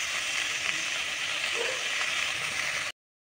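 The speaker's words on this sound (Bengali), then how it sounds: "আর এদিকে আলু ভাজা বসিয়ে দিয়েছি।" Potatoes frying in a home kitchen pan give a steady, close sizzle with a broad hiss that holds evenly throughout, with no voices.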